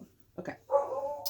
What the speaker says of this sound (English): So sorry about the dog barking.